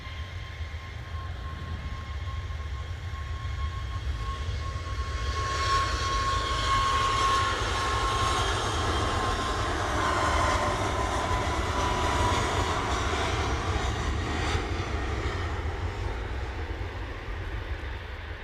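A Ryanair jet departing Manchester Airport, its broad roaring engine noise steady and fairly loud for the whole stretch, with a thin whine sitting above the rumble early on.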